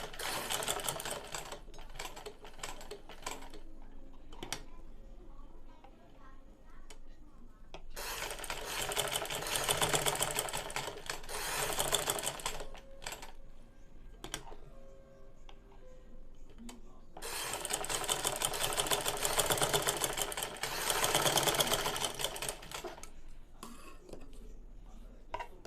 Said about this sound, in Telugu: నీడిల్ అన్నది దించుకుంటూ పాదం పైకి ఎత్తుకుంటూ క్లాత్ని అన్నది మనం జరుపుకుంటూ కుట్టు వేసుకోవాలమ్మా